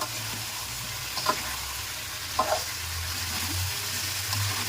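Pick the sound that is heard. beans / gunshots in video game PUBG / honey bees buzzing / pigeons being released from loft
beans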